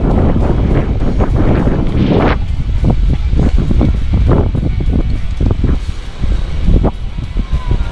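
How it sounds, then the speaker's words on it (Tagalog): Strong wind roars and buffets close to the microphone in gusty bursts, loud and continuous throughout, during a bike-packing ride in Calatagan, Batangas. "Hangin na oh."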